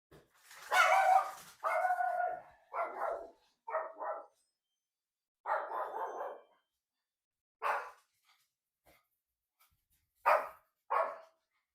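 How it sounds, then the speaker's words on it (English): A house dog barking after the doorbell rings, loud, close bursts of barks in irregular clusters separated by short silences. "Our ring goes off and our dog gets crazy."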